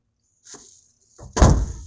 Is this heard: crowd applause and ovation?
no